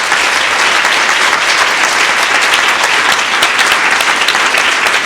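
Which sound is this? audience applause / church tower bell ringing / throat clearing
audience applause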